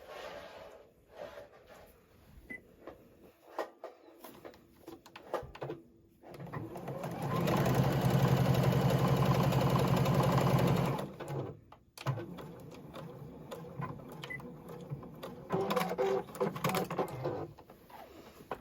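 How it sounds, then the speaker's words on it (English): A sewing machine top stitching a card slot at an eighth-inch seam, running in one steady, loud, continuous burst of about four seconds, framed by quieter handling rustles and clicks before and after. "I'm going to top stitch that top card slot first at 1/8 of an inch"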